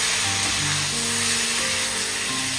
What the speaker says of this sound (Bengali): কাশ্মীরি লঙ্কার গুঁড়ো দিচ্ছি লাল, এবার একটু নেড়ে দিচ্ছি।